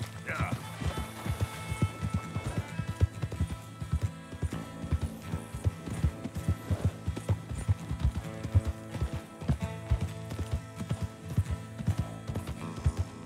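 A horse ridden in Red Dead Redemption 2, its hooves beating a steady galloping clip-clop with tack rattling, close and continuous under game music and ambience.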